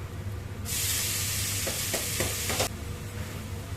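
Greens sizzle loudly in a wok with onion and garlic paste. The hiss starts suddenly, and a few scraping stirs can be heard over it before it cuts back to a quiet hum.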